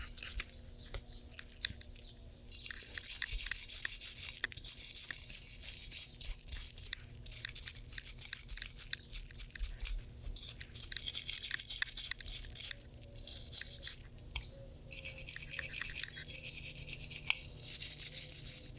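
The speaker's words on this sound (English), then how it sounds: "Gently scrub the top of the magazine, concentrating on the follower and feed lips using the nylon toothbrush, moistened with cleaning solution." A nylon toothbrush wet with cleaning solution scrubs the top of an H&K VP9CC pistol magazine, working the follower and feed lips in steady, rapid back-and-forth bristly strokes, close and continuous, with brief pauses.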